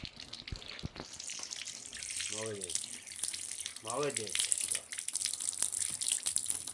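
Tap water runs steadily while a dog is washed, a broad continuous hiss throughout with someone speaking briefly over it.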